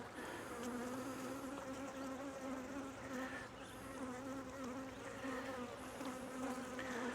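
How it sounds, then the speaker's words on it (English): Honey bees buzz steadily at an opened hive, guard bees swarming close around the beekeeper in a dense, continuous hum with no voices. "there's some guard bees on me"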